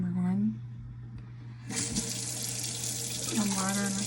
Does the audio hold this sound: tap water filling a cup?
yes